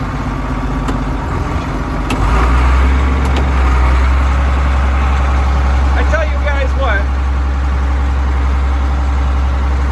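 A tractor engine idles steadily on a farm with a deep, constant rumble close by, while someone talks over it.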